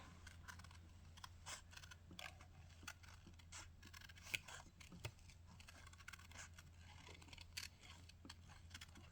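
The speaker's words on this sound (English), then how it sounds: "we're just going to cut around all of our stamped image" Scissors snip around a stamped paper image in a steady run of small, quiet cuts and crinkles over a low constant hum, with no talking.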